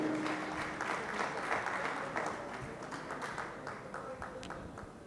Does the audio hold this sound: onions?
no